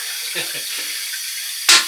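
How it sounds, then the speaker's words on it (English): A toilet tank keeps filling with water even though its supply valve is shut off: a steady hissing rush of incoming water, with a few faint low murmurs and a louder splash near the end. "Even though I've got the valve turned off, the water is still coming in, filling in the toilet."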